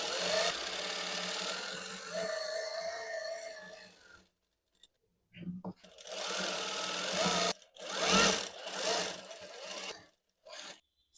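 A sewing machine stitches the side seam of a kameez along marked lines, running in a long steady burst, then stopping and restarting in several shorter bursts of varying length.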